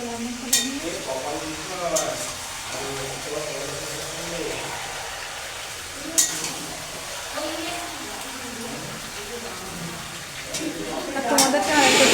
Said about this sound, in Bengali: এখন আমি রান্না করছি